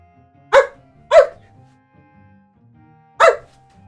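Person imitating a dog barking, three short sharp voiced barks, two close together and one after a pause, loud and near over a quiet background.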